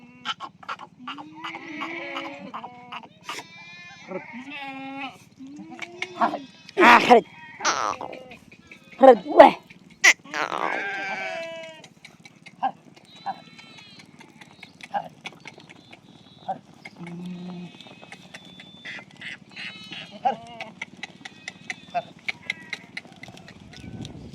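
Goats bleat in short wavering calls, several near and fairly loud, scattered among people talking and some thumps in a rural household setting.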